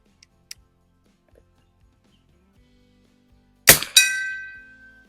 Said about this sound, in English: we're going to start it off right with the gong at 50 yards